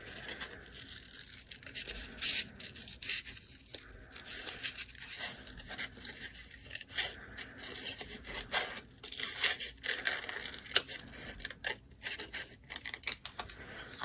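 Scissors snipping through paper while cutting out the head of a small paper snowbird for a mixed media art piece, a run of close, quiet crisp cuts and rustles at an uneven pace.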